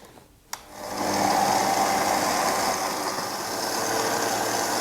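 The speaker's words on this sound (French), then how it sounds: "On peut commencer maintenant le pétrissage à vitesse moyenne." A stand mixer kneads brioche dough at medium speed. After a brief click it starts up into a steady, loud motor whir that holds evenly to the end, with no voices.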